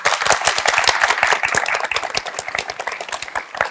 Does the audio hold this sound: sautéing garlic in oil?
no